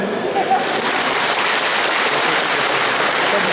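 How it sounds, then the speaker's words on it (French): Dense audience applause at a rehearsal for a festival jury presentation, a steady wash of many hands clapping from one side of the room, loud and unbroken throughout. "est-ce que ce côté-là peut applaudir pour voir comment ça fait?"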